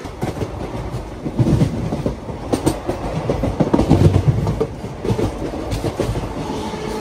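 The Andaman Express, a passenger train hauled by a WAP-4 electric locomotive, runs through Punjab toward Pathankot, heard from on board as a continuous rumbling clickety-clack of wheels over rail joints with rattling carriages and no voices.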